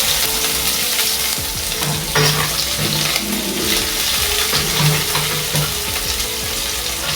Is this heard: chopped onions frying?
yes